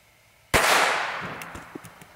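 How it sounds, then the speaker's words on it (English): A .22 long rifle shot fired at a steel toe boot, one sharp loud crack that decays into a ringing wash, followed by a few faint clicks and taps. "we're starting with the 22 long rifle"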